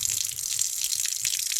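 Water gushes steadily out of the drain of an Atwood RV water heater tank, flushing loose scale and debris. The flow is a continuous, hissing rush at close range with no pauses.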